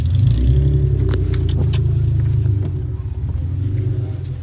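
A car on its first drive, a steady low engine rumble close by, holding constant with faint rattles and jingles over it.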